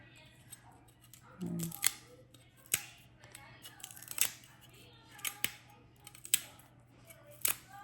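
Hard, very dry garlic cloves are peeled by hand, giving a series of sharp, close crackling snaps of brittle skin at irregular intervals over quiet background hum.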